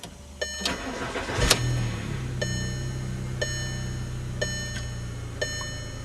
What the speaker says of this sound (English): Now we'll start the car and see if it's fixed.